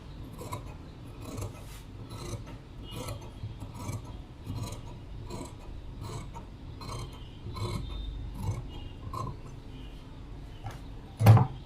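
Scissors cut through blouse fabric while a pot neck blouse is being shaped. Quiet, repeated rasping snips run in a steady rhythm close by, ending with a sharper clack.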